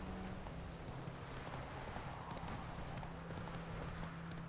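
Hooves of a galloping horse in The Witcher 3 video game make a steady, close clip-clop rhythm that stays loud and continuous throughout, with no talking over it.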